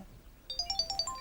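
A mobile phone rings with a rapid, trilling electronic ringtone that starts partway through and pulses in short repeated bursts, fairly close and alone after a quiet start.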